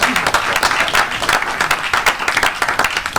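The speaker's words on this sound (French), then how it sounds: "Acclame pour la parole de Dieu." Church congregation applauding at a service in Toulon, a dense, steady wash of many hands clapping throughout, loud and close.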